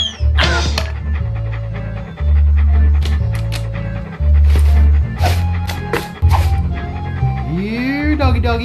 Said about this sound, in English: Here, doggy doggy. Here, boy.